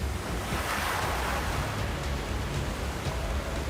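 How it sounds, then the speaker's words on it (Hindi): Sea waves surge and slap against a small boat approaching an island, a steady roaring wash of water mixed with gusting wind, loud and continuous with no voices. "लेकिन टापू के दिखते ही लहरों ने झटका देना शुरू कर दिया।"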